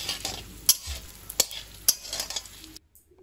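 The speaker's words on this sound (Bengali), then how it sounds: "তো এটাকে ভালো করে একটু ফ্লেভারের জন্য নাড়াচাড়া করে নেব।" Whole spices (cinnamon, cardamom, cloves, peppercorns and bay leaf) sizzle in a little oil for mutton kosa, with a spoon scraping and clinking against the pan at a few sharp points, close and fairly quiet, stopping abruptly near the end.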